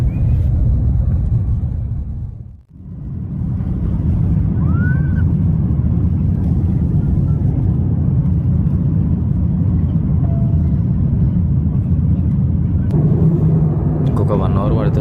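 A large passenger airliner taxis on the runway, its engines holding a steady low rumble throughout, with a brief dip early on and faint voices speaking over it.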